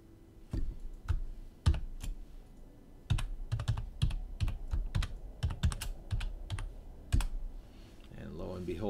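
Someone types a password on a computer keyboard in a quiet room, a run of a dozen or so crisp, close key clicks in uneven bursts, with a short pause partway through.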